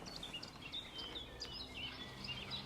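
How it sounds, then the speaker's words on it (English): Birds chirp and sing in a graveyard in Kilkenny, Ireland, with several high, quick calls scattered over a soft outdoor background, fairly near and moderately loud. "can you hear the birds?"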